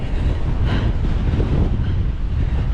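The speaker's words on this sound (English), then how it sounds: "Whoa, that is strong wind." Strong gusting wind roars steadily into the microphone during a sunrise bicycle ride along a stormy seafront, a loud, broadband rush with no speech.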